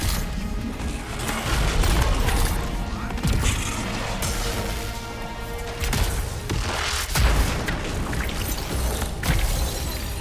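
Dense, loud gunfire and impacts from the video game Anthem form a continuous, crackling barrage with heavy booms, filling the whole stretch without a break.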